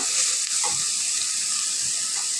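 Finely chopped carrot and potato sizzle in a pan of fried onion, a steady, close, continuous hiss with faint stirring and no voices.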